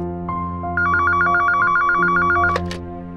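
A telephone rings with a warbling electronic trill, loud and close, playing over a sustained musical background with no one speaking.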